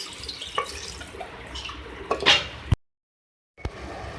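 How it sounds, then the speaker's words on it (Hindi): Water is poured into a pot of cooking beef stew, a close splashing gush that builds, stops abruptly in a brief silence, then resumes with a small clunk. "इसके बाद मैं इसमें पानी ऐड कर रही हूँ गलाने के लिए, इसको 2 गिलास।"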